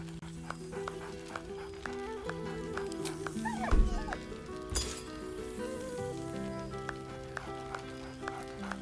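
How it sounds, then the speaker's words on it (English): A dog in Baldur's Gate III barks, giving a few short yips near the middle, heard among clip-clopping hooves, clinks and layered game music tones. "Scratch barks merrily in something like agreement"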